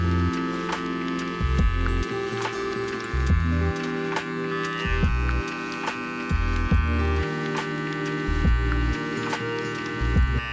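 Electric hair clipper buzzing steadily through a taper fade, worked mostly on its corners along the right side of the head, with a continuous close hum broken by short rhythmic pulses as the blade passes through the hair.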